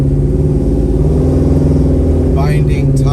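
A 1978 Chevrolet Nova's engine rumbles loudly up close while driving, a steady deep burble with a brief rise in pitch near the end, with a voice speaking over it.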